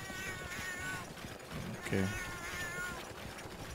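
A cat meows in Monster Hunter 3rd Portable, a few short mewing calls over the game's steady background ambience, with someone briefly speaking at one point.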